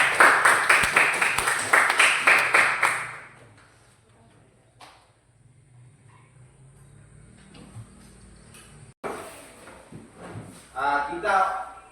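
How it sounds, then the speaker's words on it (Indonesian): Classroom applause for a student group after their presentation, with a burst of rhythmic clapping at the start that fades to quiet, then talking afterward. "Kita berikan dulu aplaus untuk teman kita yang kelompok 1."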